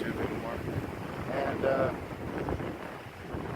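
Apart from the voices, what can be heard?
wind blowing in a windstorm in Idaho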